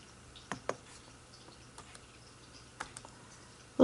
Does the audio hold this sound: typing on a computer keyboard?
yes